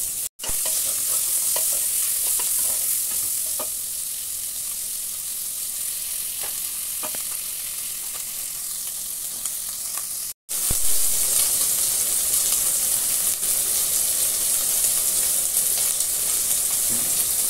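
Calabresa sausage frying in a thin drizzle of oil in a pan, a steady, close, bright sizzle running throughout with faint scraping stirs and one brief break, no voices.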